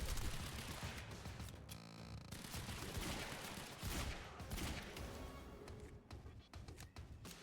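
Enemy gunfire in the video game Quantum Break, dense bursts of shots from a distance crackling steadily over several seconds, with game ambience and a brief voice underneath.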